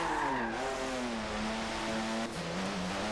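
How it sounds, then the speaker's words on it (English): An IndyCar in the Forza 7 racing game locks its brakes after contact, the engine note sliding downward under a steady tire skid that runs continuously and loud for the whole stretch. "I got run into and then I locked the brakes up"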